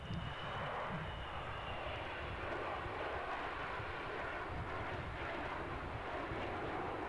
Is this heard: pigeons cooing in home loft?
no